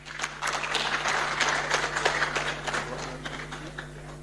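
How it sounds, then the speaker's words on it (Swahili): Audience applause at a Mashujaa Day 2024 media briefing in Kenya, a dense, steady crowd clapping that carries close and loud for several seconds without pause. "Tupige makofi kwa senator."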